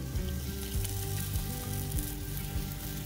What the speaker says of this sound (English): And then you just deep fry them.